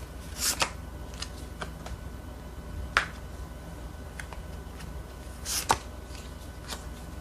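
Tarot cards shuffled before a draw give faint, sparse riffles and soft slaps, with a few sharper card snaps, close up and without talk.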